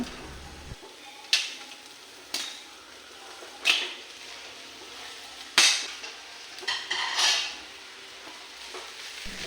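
Drained Hakka noodles hit a hot pan of stir-fried vegetables in a restaurant-style dish, producing several loud bursts of sizzling and tossing that spike and fade repeatedly over a low, quieter hiss.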